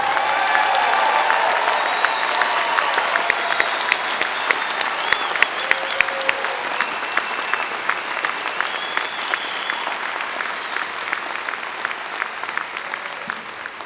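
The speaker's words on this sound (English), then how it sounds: "Let's give all of these graduate students another round of applause" A large crowd at a 2011 engineering college commencement gives the graduate students a long round of applause, dense and sustained for about fourteen seconds, easing off gradually toward the end.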